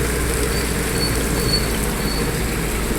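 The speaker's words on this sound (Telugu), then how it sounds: "చూడండి ఎంత పెద్ద వర్షం చూడండి ఫ్రెండ్స్" Steady, dense heavy rain pouring down on a road in a constant wash of patter, loud and close, with no voices.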